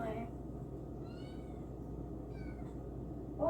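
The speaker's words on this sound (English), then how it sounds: "Why are you so meowing?" A cat gives two short, faint meows over a steady low background hum, with a brief sharper noise at the very end.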